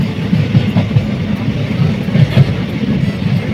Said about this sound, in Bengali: ট্রেনটা আপন গতিতে আমাদের কিছু লোককে নিয়ে নিজের নিজের গন্তব্যে পৌঁছতে ব্যস্ত।